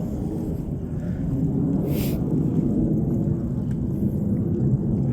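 A mountain stream in Palgongsan National Park, South Korea, rushes in a steady low roar of flowing water, continuous and fairly close, with no talking over it.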